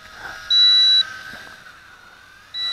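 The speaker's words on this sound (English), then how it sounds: "when you activate headless mode, it lets you know, you'll hear that beeping" A Tarantula X6 drone gives two short, high, steady electronic beeps when headless mode switches on, with a faint background hiss between them.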